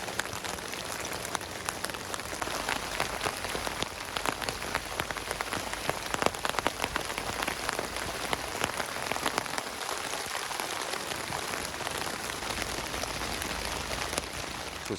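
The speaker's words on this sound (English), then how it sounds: "It's supposed to rain all day long today" Steady rain drums on an MSR Freelite 1 ultralight backpacking tent, a dense, continuous patter of drops close by, holding the same even intensity throughout with no voices.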